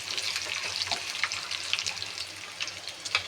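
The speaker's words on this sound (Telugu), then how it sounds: "కరివేపాకు వేసుకుంటున్నాను సిమ్లో పెట్టుకుని వేసుకోవాలి మంచిగా ఫ్రై అయ్యేటట్టు" Curry leaves and green chillies fry in hot oil over low heat for lemon rice, with a soft, continuous sizzle broken by small crackles and pops.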